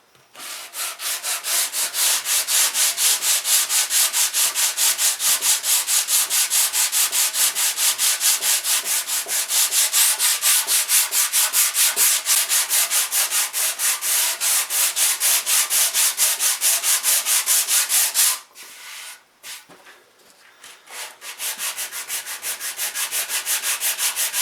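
The back of an acoustic guitar being sanded by hand: a rapid, even rasping of back-and-forth strokes that runs steadily for about eighteen seconds, pauses briefly, then resumes, close and loud.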